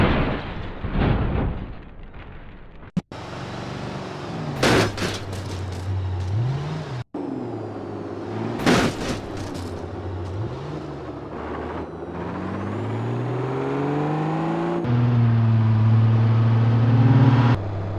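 A Jeep Cherokee in the BeamNG Drive driving game revs and strains through gear changes as it speeds along, its engine note rising and falling, with a few sharp thuds and bangs of impacts along the way.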